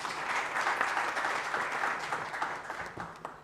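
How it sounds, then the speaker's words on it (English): Audience applause at a research and innovation festival, a dense steady wash of many hands clapping that carries through the whole stretch and thins slightly toward the end. "Can you please give him another round of applause?"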